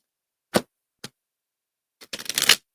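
Tarot cards being handled and shuffled, two short separate snaps followed by a quick rapid riffle of crisp flicks, close and moderately loud with silence between.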